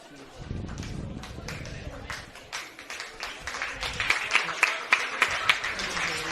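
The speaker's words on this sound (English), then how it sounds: "Jordan Baker gets a loud cheer from the crowd, as does Kyla Vanderland." Crowd at a St George FC v Mt Druitt Town Rangers NSW League One women's football final cheers and claps for substituted players, a steady mid-distance roar with rhythmic clapping bursts building toward the end.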